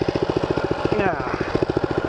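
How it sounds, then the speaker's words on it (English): A Mega Moto minibike's small engine putters close up in a rapid, even pulse, with a brief vocal sound briefly cutting across the beat midway. "there's a nice little like backfire going on this engine as it runs"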